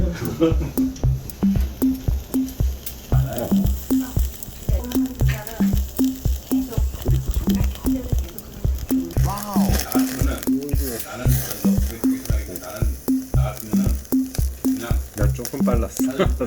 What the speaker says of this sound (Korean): 고기 굽는 소리라도 많이 들려드리겠습니다.